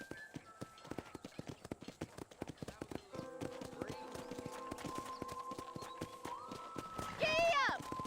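Horse hooves clip-clop at a steady gallop while riding in the video game Red Dead Redemption, close and rhythmic, with sustained game music tones entering midway and a brief voice near the end.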